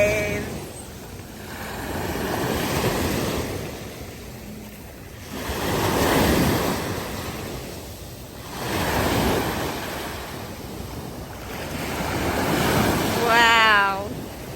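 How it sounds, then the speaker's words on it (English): Ocean surf rolls in at a beach in repeated slow waves, each swelling and washing out, with wind buffeting the microphone and a brief chirpy squeal near the end. "Surfing the waves."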